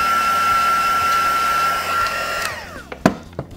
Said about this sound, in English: I'm just going to run over this with the heat gun just to make sure that those inks are really, really dry.